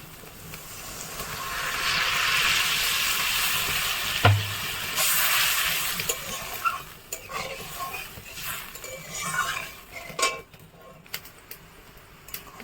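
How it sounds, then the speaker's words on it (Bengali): Water goes into a pan of spice paste frying in oil for a fish roe curry, a loud hissing sizzle that fades into bubbling, with spoon scrapes and clinks against the pan. "মশলা থেকে তেল ছেড়ে দিয়েছে, এবার এর মধ্যে পরিমাণ মতো জল দিয়ে দিচ্ছি।"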